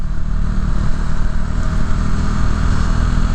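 A motorcycle rides along a road in Chicago with a steady, loud engine rumble mixed with wind and road roar throughout. The bike was bought in 2020 and has about 31,000 miles.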